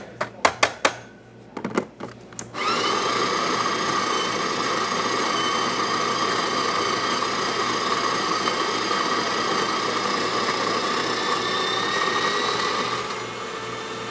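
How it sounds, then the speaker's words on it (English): DeLonghi coffee grinder running at its maximum setting, grinding beans in a loud, steady whirring drone for about ten seconds after a few short knocks and clicks, then winding down. "This time we're gonna grab the max setting of the grinder."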